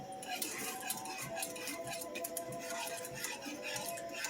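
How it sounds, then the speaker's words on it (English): Metal scrapes and clinks repeatedly against a pot as juniper ash is stirred into water, a busy irregular rhythm, close and fairly quiet, with no voices. "I'll get the sifter and kind of get that ash in there, stirred into the water real good."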